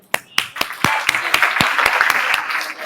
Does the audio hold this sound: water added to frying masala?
no